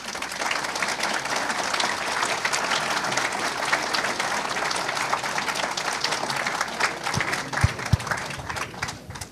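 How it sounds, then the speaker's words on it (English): Audience at an evening lecture on Islamism by Daniel Pipes breaks into loud, sustained applause, dense clapping filling the room before thinning out near the end. "You shouldn't have applauded so quickly"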